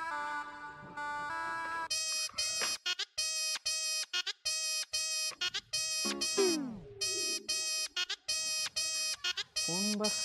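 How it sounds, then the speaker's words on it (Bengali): A mobile phone ringtone plays as a repeating electronic melody, loud and close indoors, with short gaps between phrases and brief spoken voices in between. "ফোন বাজছে।"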